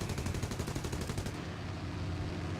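Twin 7.7 mm machine guns on a Gladiator Mk II fighter in War Thunder fire a rapid rattling burst for about a second and a half, then cut off, leaving a steady engine drone.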